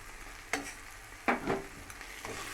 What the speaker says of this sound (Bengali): মশলাটা আমি ভালো করে কষাচ্ছি, আর তার সাথে দিয়ে দিচ্ছি অল্প করে চিনি